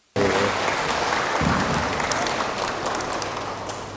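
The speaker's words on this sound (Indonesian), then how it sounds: "Kita tepuk tangan Bapak Ibu" An audience applauds steadily, a dense wash of clapping starting abruptly and holding at a fairly even, loud level throughout.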